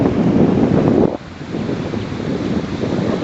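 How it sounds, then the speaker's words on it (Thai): Strong wind buffets the microphone on a beach at Hua Hin, a heavy rumbling gust that drops suddenly after a second and then keeps blowing steadily. "เราอยู่ริมหาดแล้วนะครับเนี่ย ตอนนี้ โอ้โหลมแรงมากครับ"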